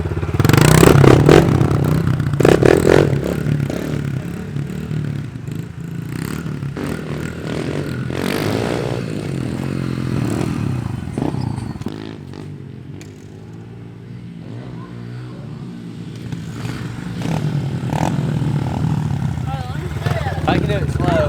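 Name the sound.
pit bike motorcycle riding on a supercross track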